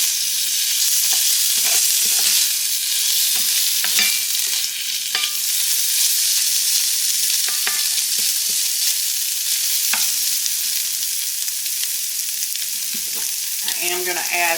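Sweet potatoes fry in a pan with a loud, continuous close sizzle, broken by scattered stirring clicks and a brief scrape near the end.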